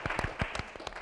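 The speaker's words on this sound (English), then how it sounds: "Let's give them a round of applause" Brief, faint audience applause, with a few scattered distinct claps rising out of a soft background over about a second.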